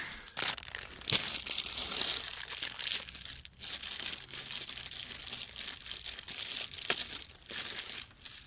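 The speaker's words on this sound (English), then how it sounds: "let me take this out of the bag" A new glow plug relay for a Ford F250 7.3 diesel is pulled out of a plastic bag, giving steady close crinkling and rustling with a few sharper crackles throughout and no talking.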